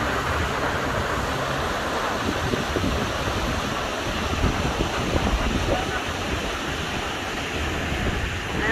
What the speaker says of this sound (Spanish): Estas cascadas están bien hermosas